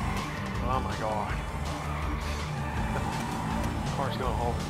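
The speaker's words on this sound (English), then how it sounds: "Car's going all over the place." In Grand Theft Auto V, a car slides and skids with repeated tire squeals over a steady engine drone, and voices talk throughout.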